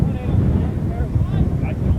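Low, buffeting wind rumbles across the microphone at an outdoor high school baseball game, with faint background voices underneath.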